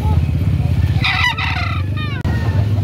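A three-year-old white-legged rooster at a market in Carbon, Cebu crows once, loud and close, over steady background engine hum and faint voices.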